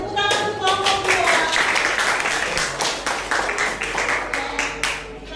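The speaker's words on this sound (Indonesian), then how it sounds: "Tepuk tangan untuk kelompok 2." A classroom of students applauds a student group, brisk, close clapping with sharp individual hand claps and a few voices briefly audible at the start, steady before easing off.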